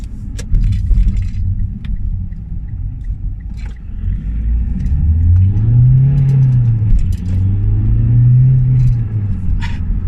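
A 2009 Mitsubishi Lancer diesel engine revs up and accelerates, a deep rising drone that swells twice, loud and close, with road rumble underneath.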